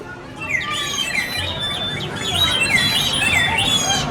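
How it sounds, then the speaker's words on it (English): Many birds chirp and tweet busily together at Camp Snoopy in Knott's Berry Farm, bright overlapping calls at moderate distance over a soft outdoor background. "One thing this place has is birds chirping."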